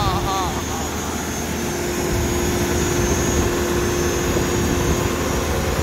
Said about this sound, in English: This is our machine today. We're doing crack sealing over here